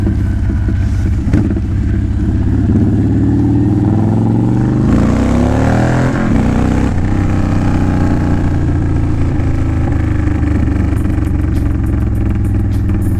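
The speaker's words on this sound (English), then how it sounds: "So we still get a little pop. That's just normal motor sound." A Honda Fury motorcycle engine idles loudly and steadily close by, with an occasional slight pop in its rumble and a short swell of revving in the middle.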